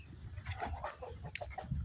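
Laying hens on a chicken farm of indigenous birds cluck softly in short irregular bursts, fairly close but quiet, with a little rustling and no talking.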